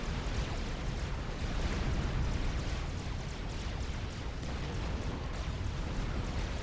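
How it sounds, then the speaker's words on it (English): Artillery fire and explosions rumble in a Supreme Commander: Forged Alliance battle, a dense, continuous wash of low booms and crackling blasts at moderate loudness with no distinct gaps. "Starting to take artillery fire as well"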